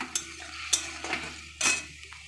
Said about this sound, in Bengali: এবার এটা নাড়তে থাকবো